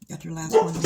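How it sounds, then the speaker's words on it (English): A pet dog barks briefly in the background of a home kitchen during mozzarella-stick preparation, a short yelp heard under a nearby person's speech. "That's my dog."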